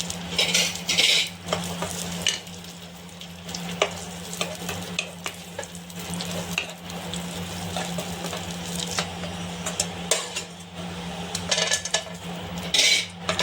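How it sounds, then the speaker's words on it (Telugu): Raisins fry in ghee in a pan, a close, continuous sizzle broken by repeated scraping stirs and metallic spoon clinks against the pan. "కొద్దిగా నేతిని వేస్తూ ఉన్నాను ఫ్రెండ్స్ ద్రాక్ష వేసి వేపుతా ఉన్నాను"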